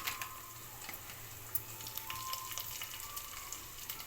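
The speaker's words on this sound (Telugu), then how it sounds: "ఆయిల్ వేడెక్కిన తర్వాత ఉల్లిపాయ ముక్కలు వేసుకోవాలి. ఇప్పుడు ఉల్లిపాయలు ఫ్రై అయిన తర్వాత కసూరి మేతి వేసుకోవాలి." Sliced onions frying in hot oil for egg pulusu, a steady soft sizzle with faint crackles and occasional light stirring clicks, close but quiet, no voices.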